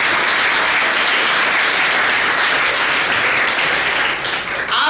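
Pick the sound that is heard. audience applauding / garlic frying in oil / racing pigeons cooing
audience applauding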